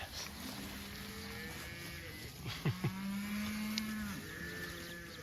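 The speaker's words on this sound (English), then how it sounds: "Calves grazing just like a big cow." Cattle moo in an open pasture where calves graze, a drawn-out low call at moderate distance with a few short grunts before it, under steady outdoor background noise.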